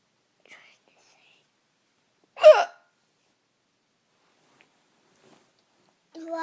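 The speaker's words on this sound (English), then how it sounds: "I have the hiccups. The hiccups hurt a lot." One close hiccup from a person, breathy and short, amid near silence, with faint whispering or talk starting near the end.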